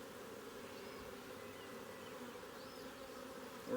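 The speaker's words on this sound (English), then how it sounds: "Alright, so now we've got the right amount of bees" Honeybees buzz inside an alcohol wash shaker jar, a steady, dense, close-up drone that holds unbroken for the whole stretch with no voices.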